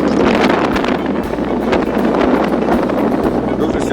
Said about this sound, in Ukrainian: сьогодні сильний вітер.